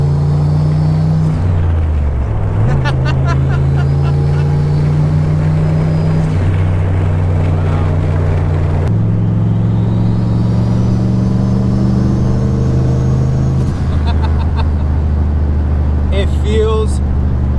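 A 1989 Nissan 240SX with a turbocharged LS engine swap drives along, its engine droning loud and steady throughout with rises and falls as it shifts, under continuous cabin talk.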